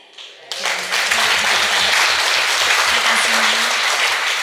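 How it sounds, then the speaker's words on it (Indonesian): Loud, sustained applause from a crowd at an Indonesian fitness event swells in abruptly and holds steady, with a faint tonal hum running beneath the clapping. "Sekali lagi boleh berikan tepuk tangan yang luar biasa."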